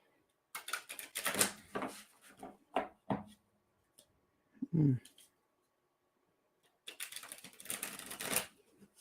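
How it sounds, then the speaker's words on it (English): Tarot cards are shuffled by hand in several bursts of crisp riffling and flicking, close and clear, separated by short pauses and a few soft taps and clicks. "I hate shuffling like that, but sometimes they tell me to."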